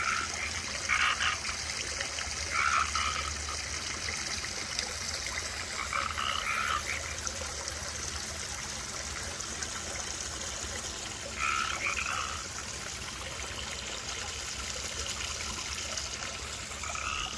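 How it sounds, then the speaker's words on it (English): Frogs croak in short bursts by a pond over a constant trickle of water, calls recurring every few seconds at a moderate distance. "water features bring frogs, and they can get much louder than this"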